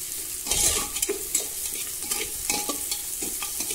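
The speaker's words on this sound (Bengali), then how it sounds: "পেঁয়াজগুলো ভালো করে লাল লাল করে ভেজে নেব" Onions frying in hot oil inside a pressure cooker, a soft continuous sizzle broken by repeated scraping strokes of a spatula against the metal, and no talking.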